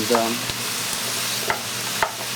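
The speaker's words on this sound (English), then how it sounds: "it's time to throw in all the rutabaga. And we'll just get that stir fried up a bit" Rutabaga and onion stir-frying in a pan for a ginger soup, a steady sizzle broken by several sharp scrapes and taps of the utensil against the pan, with no talking.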